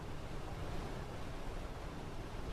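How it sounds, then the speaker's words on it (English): Continuous water sound in a video game, an unbroken surf-like roar that holds at an even level throughout, with no speech or other events over it. "I hear the water"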